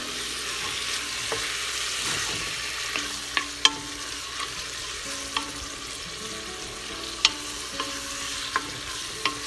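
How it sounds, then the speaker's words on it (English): Diced pork sizzling steadily in hot oil for green chile, with occasional sharp clicks of a utensil stirring and scraping the pan. "The diced pork meat that's frying up in that oil."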